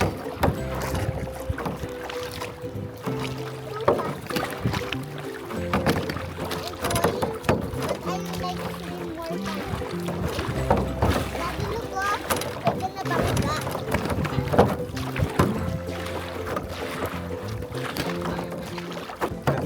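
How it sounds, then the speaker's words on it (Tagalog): Strong sea waves roll and churn at a beach in Quezon, with wind buffeting the microphone and faint voices underneath. "Lakas ng alon."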